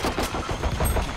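Rapid gunfire from a video game shooter rattles in a quick burst of several shots, fairly loud and close, with no talk over it.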